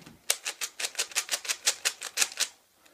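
A quick run of about fourteen crisp plastic clicks from a well-lubricated, tuned Rubik's cube being turned, evenly paced and close, with no talking.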